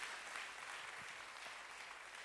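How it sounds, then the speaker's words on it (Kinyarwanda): A church congregation applauds in a soft, continuous patter of clapping that sounds distant and faint, with a low hum beneath. "Nushaka kubera Imana amashyi nta gitangaza kirimo."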